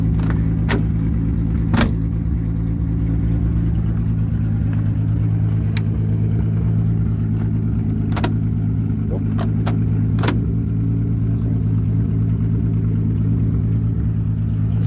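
A 1950 Plymouth Special Deluxe, mostly original, drives along with a steady low engine drone and road rumble, with a few sharp rattles and clicks scattered over it and no talking.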